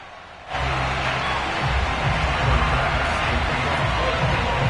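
Buffalo Bills football crowd roaring at the stadium as the team races out of the tunnel before a Week 4 game against the Las Vegas Raiders, a loud, dense, sustained wall of cheering that swells in suddenly after a quieter moment.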